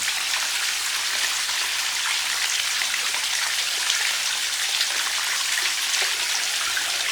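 A small waterfall splashing into a koi carp pond inside a bird aviary, a steady, even hiss of falling and splashing water close by, unbroken and with no talking.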